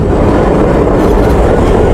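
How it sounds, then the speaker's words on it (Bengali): A train passing a level crossing, a loud, close, continuous rumble of wheels and cars filling the whole short stretch. "এখন যাচ্ছে ট্রেন।"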